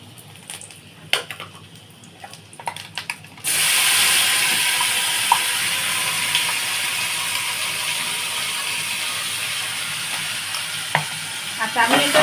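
A paste of green banana peel, tomato, potato peel and garlic hits hot oil in a pan, with a sudden loud sizzle after a few quiet clattering taps, then a steady frying hiss with occasional stirring scrapes.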